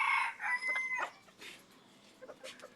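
A bantam chicken crows close by with a strained, high call, followed by softer clucks and faint rustling.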